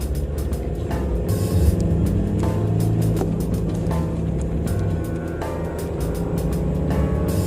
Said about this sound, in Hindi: राहुल ने सीट बेल्ट लगा के गाड़ी को हाईवे पर फिर से दौड़ाना शुरू कर दिया।